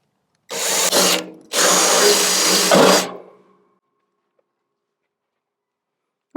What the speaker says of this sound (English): we're gonna get this hole drilled and installed